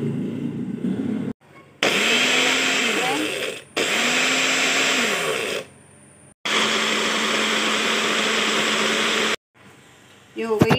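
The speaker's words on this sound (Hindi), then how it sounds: "बस इनको सबको मिक्स करना है और पीसना है और हमारी चटनी तैयार हो जाएगी।" A kitchen mixer grinder blends cumin chutney in three loud whirring bursts of about two to three seconds each, separated by short pauses.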